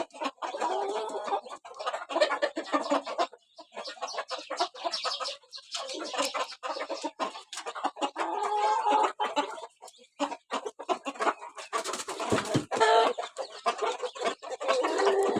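Chickens and roosters at evening feeding cluck and squawk in dense overlapping bursts, close and loud, with brief pauses between flurries of calls.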